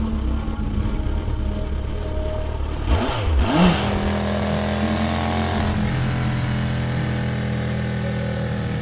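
A motorcycle engine revs briefly in the middle, rising and falling over a continuous low engine rumble that runs throughout, at moderate loudness with no voices.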